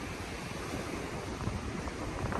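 High ocean waves pound the shore during a Nor'easter storm, a dense, continuous roar of surf mixed with gusty wind noise, loud and unbroken, with no voices.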